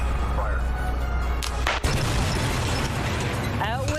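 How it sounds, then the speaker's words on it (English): Old power line infrastructure being blown up in a demolition blast, a sharp booming burst midway through amid steady background rumble and noise, with no talk. "really it's just neat video of old power lines getting blown up"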